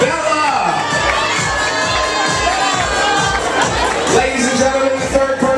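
An audience at a charity fashion show, where adoptable shelter dogs walk a runway, cheers loudly, with shouting and high children's voices in a dense, continuous crowd roar.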